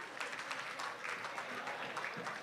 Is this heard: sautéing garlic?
no